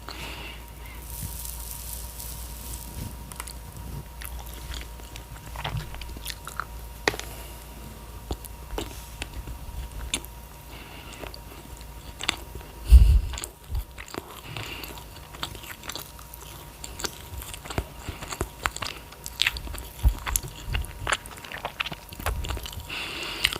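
Close, quiet bites into sponge cake followed by soft, moist chewing, with crumbly crunches scattered throughout and one sharper bite near the middle.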